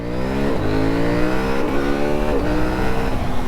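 A KTM Duke 790 motorcycle engine revs hard against its rev limiter, a loud continuous buzzing drone with repeated stepped rises and cuts as the limiter kicks in every second or so, heard up close.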